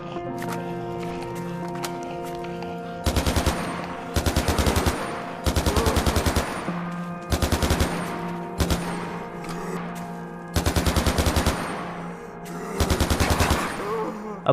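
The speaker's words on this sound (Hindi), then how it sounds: "इन सभी को लेने के बाद मैं इस AK वाली गन को रिलोड करता हूँ और सामने जो मेरे को बाहर ज़ॉम्बी दिखाई दे रहे थे उनको मार के इस गन को टेस्ट करता हूँ।" An AK-style gun fires in Minecraft at zombies, in repeated bursts of rapid automatic shots separated by short pauses over steady game background tones.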